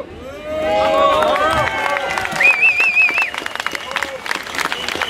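A crowd at an anti-health-pass demonstration in Annecy applauds and cheers firefighters outdoors. The clapping and voices form a steady wash of noise, and a whistle-like warbling tone rises above it partway through.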